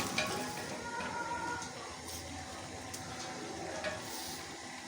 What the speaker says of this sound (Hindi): बुनाई करते हुए गोश्त चम्मच को ऊपर से नीचे और दाएं से बाएं हमने चलाना है।